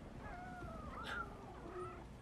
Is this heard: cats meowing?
yes